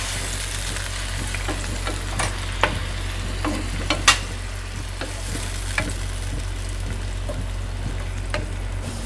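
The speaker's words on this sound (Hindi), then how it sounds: "इसको थोड़ा सा भून लेंगे हम पहले।" Chicken sizzles steadily in a pan on the stove while being stirred, with sharp scraping clicks of a utensil at irregular intervals over a constant frying hiss and low burner hum.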